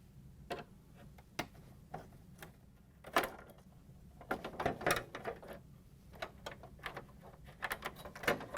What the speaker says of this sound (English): We're going to take off this upper screw.